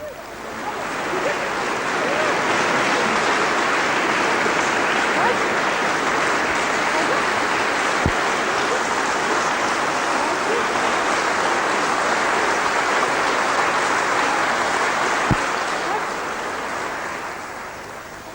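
A live audience claps warmly at a 1980 Edinburgh masterclass after a Schumann song from Frauenliebe und Leben, performed with piano accompaniment. The dense, steady applause lasts about eighteen seconds before fading slightly.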